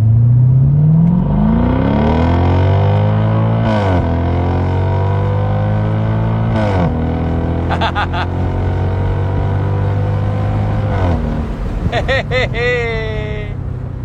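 A Mercedes SLK 55 AMG pulls hard from first gear, its engine note climbing in loud, close rising sweeps with sharp shift breaks and crackling blips near the end, while a voice speaks over it.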